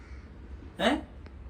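A single loud, harsh crow caw rings out close by, followed by a faint short chirp, over quiet background noise.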